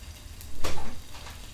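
Tofu fries slowly in soybean oil on a charcoal stove, a soft steady sizzle close by that swells briefly in the middle, with no voices.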